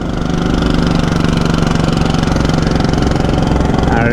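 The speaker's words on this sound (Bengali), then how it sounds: "এই মুহূর্তে আমিও আমার বাইক এক গিয়ারে নিয়ে নিয়েছি" A motorcycle held in first gear on a steep hill road to Sajek Valley drones loudly and close by, a steady throbbing engine note with no break and no talk.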